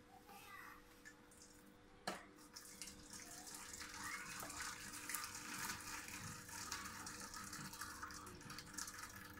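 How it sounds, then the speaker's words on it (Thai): Liquid from pork cooked in a pan for larb pours out in a steady, continuous watery gush, close and moderately loud, running unbroken for the length of the clip with no talk. "ปิดไฟแล้วก็เอาน้ำหมูเทน้ำหมูออกนะค"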